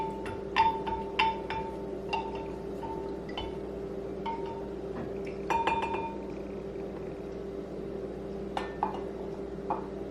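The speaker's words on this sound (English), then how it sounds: "Just make sure that I'm stirring it really good." A spoon stirs lavender lemonade with honey and water in a glass, producing repeated bright clinks against the sides over a low steady background hum.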